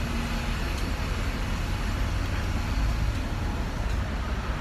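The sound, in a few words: bus passing nearby on street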